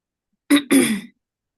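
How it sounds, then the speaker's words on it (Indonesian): Two quick, harsh coughs close to the mic, the second longer and raspier, then silence. "Seperti ini saya batuk-batuk"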